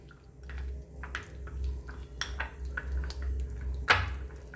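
A yogurt face pack being mixed inside a bottle, giving faint wet squishes and small clicking knocks in an uneven rhythm, with one sharper clatter near the end.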